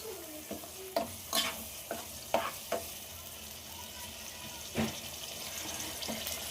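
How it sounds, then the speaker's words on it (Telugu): Ground masala paste frying in oil for chicken mandi biryani, stirred in a pan: a steady close sizzle with a series of sharp scraping stir strokes spread across the clip, over faint kitchen background. "ఈ మసాలా అయితే కొంచెం కుక్ కావాలి."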